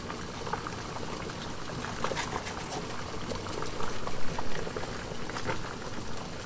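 Cabbage leaves boiling in a pot of water on the stove, a steady bubbling and rolling simmer with small pops, close and moderately loud throughout.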